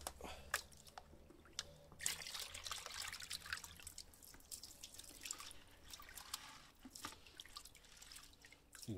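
Water sloshing and dripping in a bucket as sluice material is panned for gold outdoors, with soft trickling and splashing throughout, close but faint, without speech.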